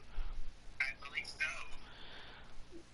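A phone rings in short electronic bursts of two or three tones, then falls quiet, with people talking around it.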